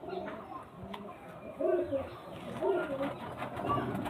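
Pigeons cooing in a loft where pigeons are kept for sale, with repeated throaty coos rising over a steady background murmur of other birds, close and moderately loud.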